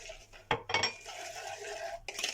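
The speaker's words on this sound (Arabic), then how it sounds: "وهبتدي تقليبه كده" Spoon or whisk stirring powdered milk into a homemade dark chocolate mixture in a pot, giving a few close scraping clinks followed by steady soft rubbing, with no talking.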